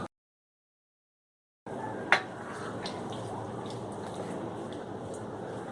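Water from a glass, about one and a half glassfuls, goes into a simmering chickpea curry, a brief splash followed by a steady liquid wash and sizzle, close and moderately loud, with no talking.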